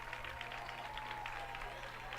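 Applause from teammates and the crowd at a baseball game in Rogersville, a steady faint clapping under a radio announcer's voice.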